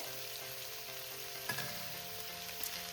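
Garlic and green chillies fry in a pan for a spicy potato and capsicum dish. A steady, close sizzle carries on throughout, with a couple of sharp stirring clinks against the pan.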